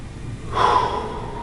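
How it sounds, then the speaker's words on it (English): A single exaggerated breath, a sharp audible inhale or exhale during a neck stretch, rises close to the microphone midway and then tapers off softly. "I'm exaggerating my breathing so you can hear it"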